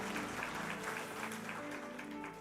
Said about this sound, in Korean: 우리 격려와 축하의 박수 하겠습니다